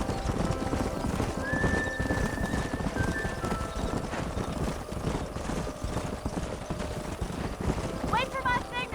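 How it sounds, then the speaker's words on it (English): Horses in the Red Dead Redemption video game trotting with continuous rhythmic clip-clop hoofbeats, a drawn-out whinny early on and another neigh near the end, under low background din. "don't let those horses out of your sight!"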